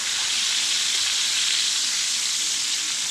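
Sous vide duck breast sears in a hot pan with a loud, steady, broadband sizzle that holds constant throughout, with no talk over it.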